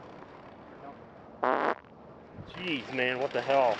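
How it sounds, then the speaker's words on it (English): A human fart sounds as one brief, loud burst, followed after a pause by someone talking nearby. "Oh man, that was a fart."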